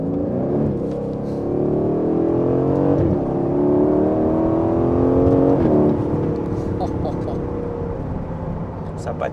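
A modified Aston Martin with rear-wheel drive and a turbo spins its wheels on a wet road, its engine revving loudly and steadily with rising and falling pitch for the whole stretch.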